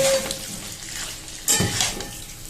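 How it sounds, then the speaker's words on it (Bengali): Fried cauliflower and potatoes being tossed into spice paste in a pan, a soft sizzle with scraping and stirring clatter, brief louder bursts as the pieces hit the pan. "এবার এর মধ্যে আমি ফুলকপি আলু যেটা ভেজে রেখেছিলাম সেটা দিয়ে কষাবো"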